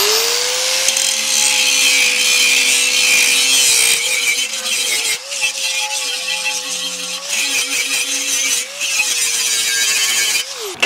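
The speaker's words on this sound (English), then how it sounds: "it was not only powering this old school large circular saw, but it was jamming in the cut all the way through" An old-school large circular saw, running off a portable power station, bites through a wooden pallet for firewood with a loud, steady whine and harsh grinding rasp that sags and recovers as the blade jams in the cut.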